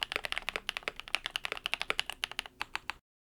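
Fast, steady keystrokes on a mechanical keyboard, a KBD67lite or NK65 fitted with PE foam and masking tape mods: a rapid run of crisp, muted clicks, close and quiet, then sudden silence.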